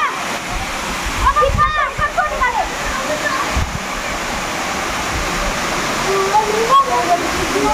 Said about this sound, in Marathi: हे लोक भिजायला आले धबधब्याखाली.